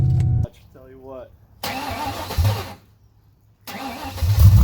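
A 2003 SVT Cobra engine cranks over in two loud bursts with an uneven, galloping rhythm, separated by quiet gaps, with a voice heard briefly before the first burst.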